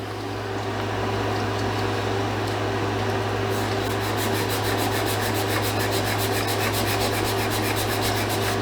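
A groove in a wooden gun stock being sanded, a steady rubbing scratch with a rhythmic back-and-forth stroke pattern in the second half over a constant mechanical hum.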